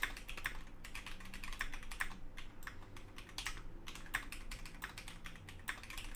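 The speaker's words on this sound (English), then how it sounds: "So I'm just typing to Rabbit." Typing on a computer keyboard during a livestream, a steady stream of close, light key clicks in quick irregular bursts with brief pauses, no talking.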